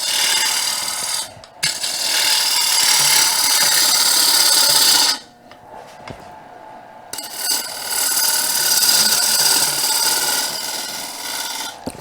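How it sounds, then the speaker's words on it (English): A wood lathe turns a bowl as a tool makes push cuts to form a tenon, a loud close hissing, rasping cut in long sustained passes broken by brief pauses. "So I'm doing push cut right into it because I want to establish a tenon."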